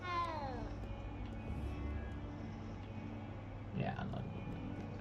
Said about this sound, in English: Oh, what a cute kitty cat.